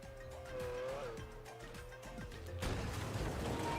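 A car driven in a Call of Duty Zombies game, its engine tone rising and falling with tire squeal and a short skid, fairly close and steady with no talk over it.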